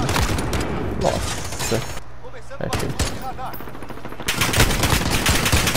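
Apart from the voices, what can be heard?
gunfire in a multiplayer shooter video game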